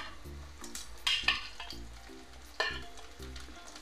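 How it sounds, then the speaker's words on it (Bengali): Fried snakehead fish heads are added to hot oil with garlic and stirred, giving a loud close sizzle with a sharper burst as they go in and repeated rhythmic spatula scrapes across the pan. "এবার মাছের মাথাগুলো, ভাজা মাথাগুলো আমি দিয়ে দিচ্ছি"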